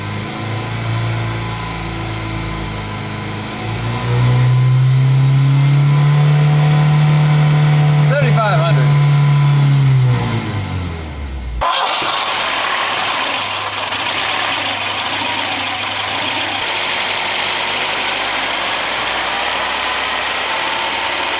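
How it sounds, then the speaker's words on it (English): A 1984 Volvo 240 engine idling with a surging idle, first a loud steady hum that swells and holds, then drops off sharply into a quieter, rougher running sound with background noise. "I'm going to show you just how loud this engine is"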